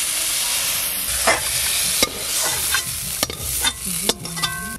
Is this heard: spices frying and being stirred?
yes